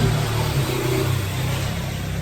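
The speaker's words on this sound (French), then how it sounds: "quand il passe une petite moto, on l'entend beaucoup" A small Brazilian motorcycle passes by in a quiet setting, its engine a loud, continuous buzzing drone with slight shifts in pitch as it goes past.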